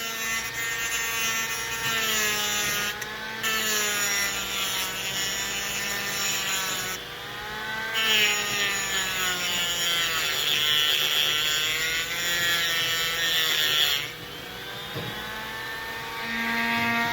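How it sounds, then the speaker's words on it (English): Grinding against an abrasive disc, likely a tungsten electrode sharpener beside an Everlast 250EX TIG welder, a steady whining grind with shifting pitch and a few brief breaks, no talk. "in here, we have this abrasive disc that we're gonna grind against"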